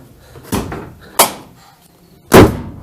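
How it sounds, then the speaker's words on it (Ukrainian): Three separate thuds of a door swinging shut during home renovation, each a sharp knock with a short fade. The third is the loudest, with quiet between them. "Двері закриваються."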